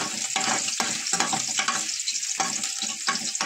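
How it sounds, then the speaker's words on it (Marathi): Seven or eight crushed garlic cloves frying in two spoons of oil, a strong close sizzle broken by bursts of stirring scrapes, continuous and loud with no talk. "2 चमचे मी तेल घातले इथे आणि 7-8 कळ्या लसूण चेचून चांगला आतमध्ये भाजू द्यायचं आहे तेलात."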